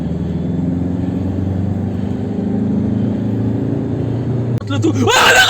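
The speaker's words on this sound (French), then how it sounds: "on est en train de regarder les voitures. Et ils ralentissent tous fortement" Cars pass close by on a roadside and slow down hard, a steady low engine rumble with a louder vehicle surge at the end, under people talking.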